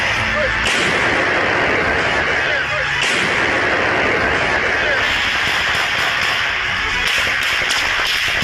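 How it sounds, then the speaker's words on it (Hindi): Gunfire in war footage from the fighting around Kyiv, Ukraine, with dense repeated cracks and bursts, sharp reports standing out near 0.7, 3 and 7 seconds over continuous rumbling noise and a voice talking throughout. "सैनिकों पर गोलियों की बौछार करते हुए नजर आ रहे हैं"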